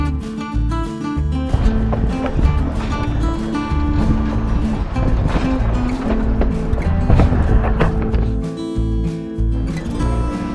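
On board the Durango and Silverton train, a loud, dense rumble and clatter rolls on steadily from start to finish, close and continuous, with no clear voices.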